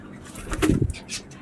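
Two fancy pigeons settling in, with a short burst of wing flapping and a soft coo at close range; the fluttering is brief and fairly loud, followed by quieter rustling.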